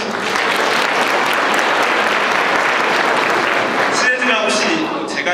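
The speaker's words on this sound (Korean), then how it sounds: "모두 박수 한번 쳐주시죠." Sustained, loud audience applause rolls through a lecture hall at the Gyeonggi Province education training institute for about four seconds, then thins out as a speaker resumes talking.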